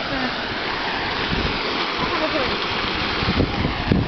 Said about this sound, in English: Look at the water. Look how much it's rushing.